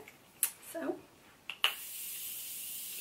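Morphe Continuous Setting Spray misted onto a face, heard as a sudden close hiss that carries on steadily for more than a second after a couple of brief handling clicks.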